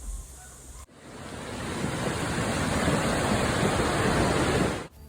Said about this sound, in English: the little river streaming down the back of a caravan the day before transformed into a raging rapid river